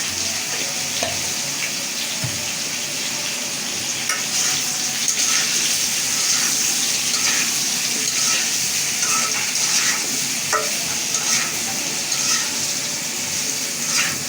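Beef with ol-kachu (elephant foot yam) fries in a pan, with a dense, close sizzle running throughout and intermittent scraping and clicking from stirring.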